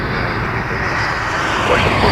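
A jet airliner at Toronto Pearson on its takeoff run from runway 06 left, a steady broad engine roar, loud and close, with no pauses.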